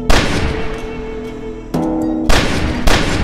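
Gunshots in the video game Only If come as several sharp, loud bursts, each followed by a ringing tail, spread unevenly across a few seconds.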